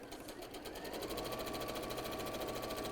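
A home sewing machine chain-stitches quilt pieces for a wall hanging, its needle hammering in a fast, even mechanical rhythm that starts up and runs steadily and loudly close by, with no talking over it.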